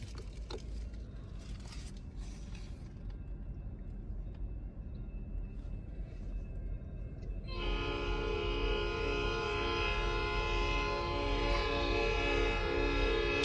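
A CN freight train at a no-horn crossing lays on a loud, sustained chorded horn that starts midway and blares continuously over the rumble of passing rail cars.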